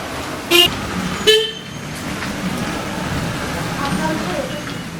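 Taxis move through street traffic in Puno, Peru, where two short, sharp horn toots sound close by in quick succession. A low, steady traffic rumble continues underneath.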